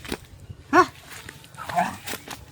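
A dog lets out a couple of short barks and yips amid people talking outdoors.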